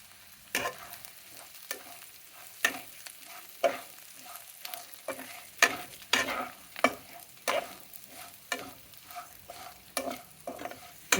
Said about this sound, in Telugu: ఆల్రెడీ వేయించింది కాబట్టి ఇప్పుడు నూనెలో వేయించుకుంటున్నాను